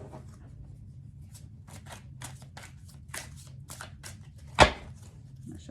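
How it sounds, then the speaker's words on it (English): Tarot cards are shuffled in a series of crisp riffling bursts over a low background hum, ending with one sharp snap. "shuffle."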